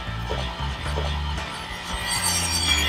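Micro mesh abrasive pads rub over a turned pen on a lathe, producing a continuous close hiss of rubbing above a steady low motor hum, with no speech.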